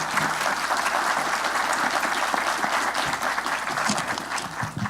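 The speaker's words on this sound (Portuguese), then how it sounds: "Uma salva de palmas para eles," Audience applauding panel speakers at a Brazilian securities-regulation enforcement seminar, a dense, steady round of clapping that holds strong throughout and fades slightly near the end.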